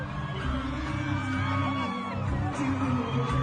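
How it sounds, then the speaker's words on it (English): Crowd yelling and whooping, a loud continuous mass of voices with scattered shouts over a low rumble, close and dense throughout. "Crowd screaming."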